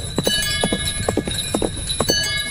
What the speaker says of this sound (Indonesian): Suara lonceng besi menggema pelan tapi tajam.